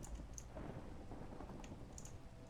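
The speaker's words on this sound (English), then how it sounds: "The thunder is striking everywhere." A Minecraft thunderstorm rumbles with steady rain hiss and low thunder, with a few faint clicks over the top and no voices.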